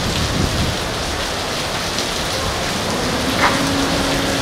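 Rain pouring during a Kalbaishakhi storm in Dhaka, a dense, steady wash of drops hitting surfaces with no pause, with faint street noise underneath.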